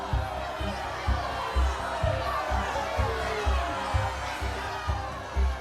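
A raging mob shouts over the voice of the prophet Jeremiah, a thick wall of overlapping yells and cries with pulsing low thuds and swells, sustained and loud throughout.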